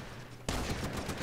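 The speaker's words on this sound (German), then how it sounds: "3 Schuss aus nächster Nähe, also Schrotflinte." Shotgun fire in the video game Terrorist Takedown, set in Colombia: a sudden loud blast after a quiet moment, followed by a quick run of rapid close-range shots.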